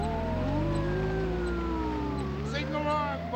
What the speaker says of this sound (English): That's not a song, you twit. It's a police siren, Barnacles.